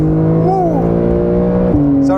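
A Porsche 911 992 Carrera S flat-six engine in sports mode sounds loud and close from inside the car, a steady drone with a pitch swell early on and a sharp shift near the end, while a voice talks over it.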